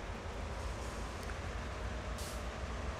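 A train in the video game Train Sim World rumbles steadily with a low, continuous roar and faint rail clatter, with a brief hiss of air partway through.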